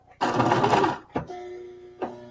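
A sewing machine backstitching fabric while setting in a sleeve: a loud, close whirring burst of stitching, then two short stop-start bursts.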